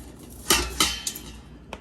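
Asparagus spears laid onto a metal sheet pan, making a few light clanks and taps against the pan, close and alone.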